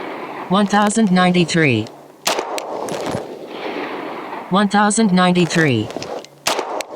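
Rifle shots with 124-grain rounds fired through a Ghenghis Comp C2X compensator: two sharp, isolated cracks with a short decay, separated by a man's spoken readouts.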